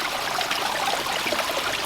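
Water runs steadily down a gravel-lined backyard pond stream fed by a waterfall spillway, a close, continuous broadband rush and trickle with no talking.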